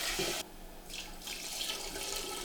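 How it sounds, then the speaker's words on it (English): Crab stock is poured slowly through a strainer into a gluten-free flour roux, making a close, continuous splashing pour that briefly drops off then resumes, with no talking. "I'm just straining the stock."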